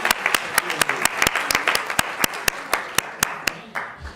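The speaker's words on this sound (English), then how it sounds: "Give him applause for that." Applause from the crowd at an HBCU pre-law hall of fame ceremony: a fairly sparse run of sharp, distinct claps from a modest number of people, clearly separated hand strikes that thin out toward the end.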